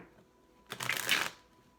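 A quick riffle of tarot cards being shuffled, a single crisp burst lasting about half a second against a quiet room.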